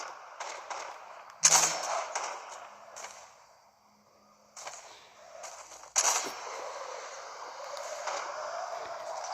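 Pistol shots in the video game Fortnite, two sharp loud reports a few seconds apart amid busy game effects and ambient noise, with no talk over them.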